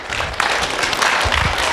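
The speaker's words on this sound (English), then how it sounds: "You can clap for him." An audience claps for a pastor in a short burst of applause, steady and fairly close.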